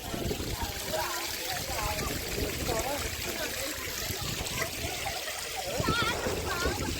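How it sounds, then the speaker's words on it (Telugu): Steady rushing water of the Ananthagiri waterfall in the hills during monsoon, a continuous broadband roar with people talking over it throughout. "ఇక్కడ అనంతగిరి వాటర్ ఫాల్ అంటే ఇదే"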